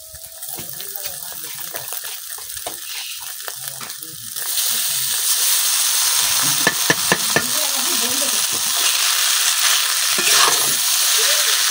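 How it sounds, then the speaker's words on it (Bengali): Noodles with egg and spices are stirred in a hot pan, with a steady loud sizzle and scraping strokes of the utensil close up. "এখন ডিমের সাথে নুডলসটা খুব ভালো মিশিয়ে দেন।"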